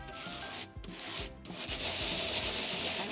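A piece of chalk is rubbed and pressed into salt to colour it for a layered salt bottle, giving a close, steady gritty scraping with two brief pauses, then a continuous rougher grinding.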